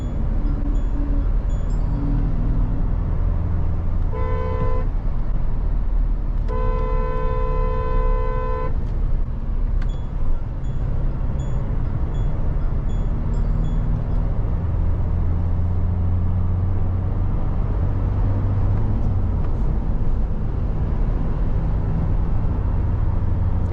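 Busy road traffic with trucks all around, heard from inside a moving car, with a steady engine and road rumble throughout and two clear car horn honks partway through, the second a longer sustained toot.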